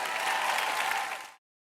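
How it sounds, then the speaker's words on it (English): Audience applause at a talk, a short, even wash of clapping from a crowd that holds steady and then cuts off abruptly. "Somebody clap if you believe that."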